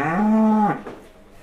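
A cow just unloaded from a truck gives one loud, close, drawn-out moo that falls away at the end, with no voices.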